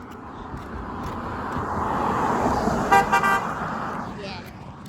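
A passing car gives a couple of short horn toots over a broad traffic rumble on a road, with people talking nearby.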